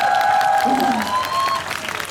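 Concert crowd applauding at the Silla Cultural Festival in Gyeongju, a dense, steady wash of clapping throughout, with a voice or sustained tones riding over it.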